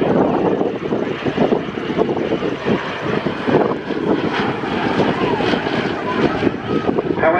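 A Fairey Swordfish biplane flies at an RAF Valley families day air display, its piston engine droning steadily with some wind noise while a commentator speaks over the public address throughout.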